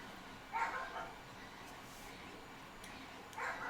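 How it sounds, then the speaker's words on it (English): A dog barks outdoors, heard as two short bursts of yips a few seconds apart, muffled and moderately distant, over a quiet steady indoor background. "I'm sure you guys can hear my ding-a-ling dog outside barking."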